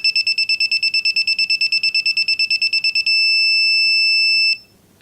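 Bahco electronic angle meter beeping as a bolt is tightened, a rapid train of high pulsed tones that turns into one steady continuous tone when the target angle is reached, then cuts off, loud and close.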